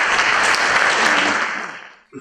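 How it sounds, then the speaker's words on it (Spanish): A conference audience at an arbitration congress applauds to welcome a speaker, a dense, steady wash of clapping that fades away near the end. "Recibimos con un fuerte aplauso al doctor Sandro Espinosa"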